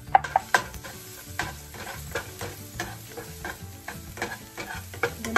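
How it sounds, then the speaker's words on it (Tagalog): Garlic sizzling in a pan for pancit luglug, with a utensil stirring and scraping at a steady pace and sharp metal clicks. The frying stays close and moderately loud, and no one speaks. "ilagay po natin ang ating pong garlic. Haluin po natin."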